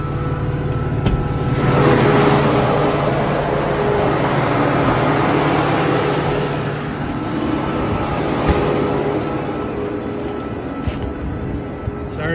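Kubota M4-071 tractor idling high at 2200 RPM during a DPF regeneration, a loud steady engine roar and hum that holds without a break.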